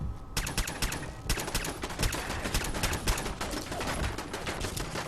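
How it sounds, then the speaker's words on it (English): Automated turret fire in Fallout 4 rattles off in rapid, dense bursts, loud and sustained for several seconds with no talking over it. "the turret was shooting at me"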